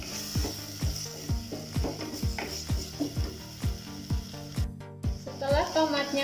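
Coarsely chopped tomatoes frying in a pan for a meatless spaghetti sauce, a regular series of spatula knocks and scrapes roughly twice a second over soft sizzling, close up, with a brief burst of hissing near the end.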